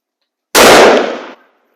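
A single sharp rifle shot from a Browning A-Bolt in .25 WSSM cracks out loud and close, its blast ringing briefly before dropping away into silence.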